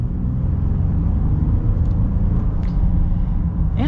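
A 2024 Honda Ridgeline TrailSport, a mid-size pickup truck, accelerates with a steady low engine rumble and road noise heard from inside the cab, holding even and loud throughout.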